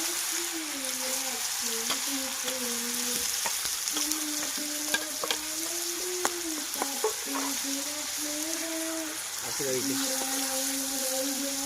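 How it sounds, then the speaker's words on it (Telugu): Onion paste frying in a pan toward brown for a gravy chicken fry, a steady sizzle with stirring scrapes, while a voice talks or hums intermittently over it. "ఆనియన్ పేస్ట్ ఇది బాగా బ్రౌన్ కలర్ గా ఫ్రై అవ్వాలి"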